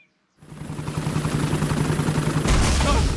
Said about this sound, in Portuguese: O helicóptero da Dona Coelha resgatou o Papai Pig.